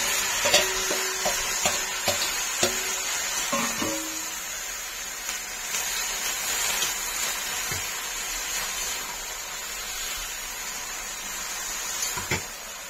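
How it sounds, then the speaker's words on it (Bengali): Gourd greens dropped into spices frying in a pan and stirred, a few quick clanks of a utensil against the pan early on, then a steady hissing sizzle with occasional scrapes, close and moderately loud. "এবার আমি লাউ শাকটা দিয়ে দেবো।"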